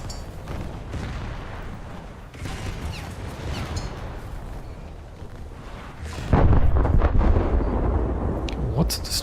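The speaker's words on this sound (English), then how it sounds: "What destroyer is shooting me?" Naval gunfire from an enemy destroyer in a warship video game, heavy booming shell impacts and rumbling blasts over constant engine and sea noise, growing louder and denser in the last few seconds.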